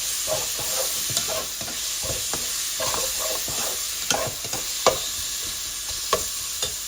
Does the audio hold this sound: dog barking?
no